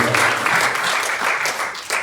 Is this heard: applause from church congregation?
yes